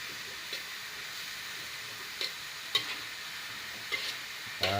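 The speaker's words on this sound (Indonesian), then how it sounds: "Kita proses, kita aduk terus." Sweet filling for dadar gulung is stirred in a pan over a constant soft frying hiss. Occasional scrapes and clinks of the utensil against the pan break through, and no one speaks.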